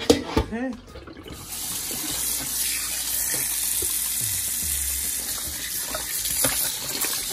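Tap water runs steadily into a tub while beef ribs are washed in a home kitchen, a continuous moderate gush with a brief clatter at the start and voices now and then.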